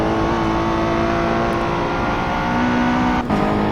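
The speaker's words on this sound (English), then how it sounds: "then hard on the brakes now for the left-hander. Accelerating right out." Race car engine in a qualifying session of the CMRSC Endurance Championship at the United States Grand Prix, loud and close, droning steadily under braking for a left-hander, with a brief dip before it pulls hard out of the corner.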